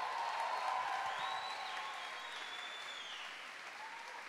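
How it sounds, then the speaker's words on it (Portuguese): A church congregation applauds during a Pentecostal sermon, a dense, moderately faint patter of clapping that holds steady and slowly tapers away over a few seconds. "Pode aplaudir."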